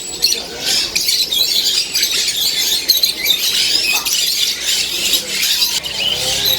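A bird market in Hong Kong, filled with dense, continuous high squawks, squeals and chirps from many caged birds close by, with a faint background murmur.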